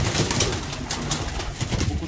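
Budapest Goylak breed pigeons cooing in a loft, low rolling coos close by over a noisy, busy background with faint rustling.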